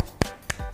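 Two sharp hand claps, spaced about a third of a second apart, from children doing a rhythmic 'tepuk semangat' cheer clap during a second-grade math lesson. The claps are close and crisp, with no talking.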